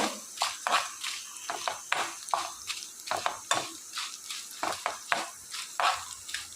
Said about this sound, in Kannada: ಇದಕ್ಕೆ ಖಾರಕ್ಕೆ ಅನುಸಾರವಾಗಿ ಕೆಂಪು ಮೆಣಸು ಮತ್ತು ಕರಿಬೇವು ಇದನ್ನು ಒಳ್ಳೆ ರೀತಿಯಲ್ಲಿ ಫ್ರೈ ಮಾಡ್ಕೊಳ್ಳುವ